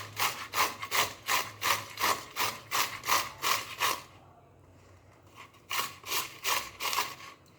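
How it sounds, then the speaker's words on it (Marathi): Bitter gourd rubbed against a hand grater in a kitchen, a close rhythmic rasping of about a dozen quick even strokes, a brief pause, then several more strokes with no talk. "किसणी घ्यायची आहे आणि हे कारले सर्व किसून घ्यायचे आहेत"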